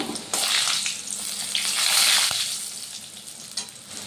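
Potato pieces frying in oil on a low simmer with two bay leaves added, a steady close sizzle with soft stirring scrapes throughout and no voices.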